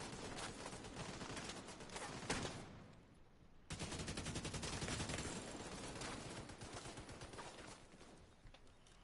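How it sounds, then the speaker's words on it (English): Sustained automatic gunfire rattles on in The Division 2 video game, dense rapid bursts filling nearly the whole stretch with a brief lull before a fresh volley resumes, loud and close. "shooting at me right now"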